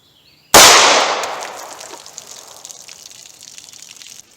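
A single sharp gunshot from a 2-inch snub-nose revolver firing standard-pressure Hornady Critical Defense .38 Special 110-grain ammunition, a loud crack followed by a long echoing decay.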